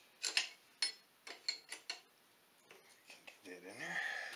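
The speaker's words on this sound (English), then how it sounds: "so 19/16 inch wrench on the back side" A wrench ratcheting on a bolt on a 1996 Polaris Sportsman ATV transmission, close-up sharp metallic clicks in an irregular series, followed by a softer scraping rattle and a brief voice at the end.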